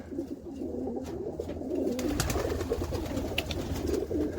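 Healthy racing pigeons coo softly in a loft, with a continuous low, murmuring burble from several birds and a few faint flutters and clicks.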